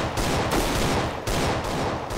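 Gunfire in Counter-Strike: Global Offensive on the Aztec map comes as loud, close bursts of rapid shots, with brief pauses between the bursts.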